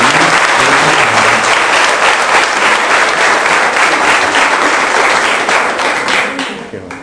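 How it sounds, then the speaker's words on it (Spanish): Congregation bursts into loud, dense applause inside a church during a Catholic Mass celebrating a girl's fifteenth birthday, sustained and close before tapering off near the end, with a voice faintly under the clapping. "damos un aplauso"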